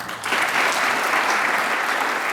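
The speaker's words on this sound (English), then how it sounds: "So if you appreciate them with a round of applause" An audience at the Great Plains Fire Summit breaks into applause after a brief pause, a dense, even wash of clapping that holds steady to the end.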